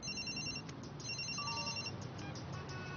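A cellphone ringing with a bright repeating electronic ringtone, steady pulses of tone over a busy background, fairly close and clear.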